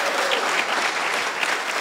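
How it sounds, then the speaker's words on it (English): A conference audience at a robotics and maker event bursts into dense, sustained clapping, loud and even from start to finish. "All right, everyone, clap."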